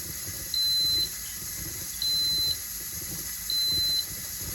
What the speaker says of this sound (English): And now my timer's going